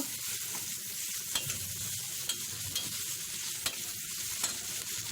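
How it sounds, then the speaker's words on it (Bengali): Chopped onion and green chilies frying in hot oil for a fish roe bhuna, a steady close sizzle broken by several sharp scraping stirs of a spoon against the pan, with no talking. "এখন এটাকে ভালো করে পেঁয়াজটাকে ভাজতে হবে নরম নরম হয়ে আসলে"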